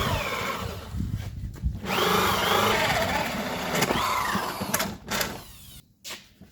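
Power drill boring holes through a tire or wheel, with loud sustained grinding bursts broken by short pauses and brief spurts toward the end.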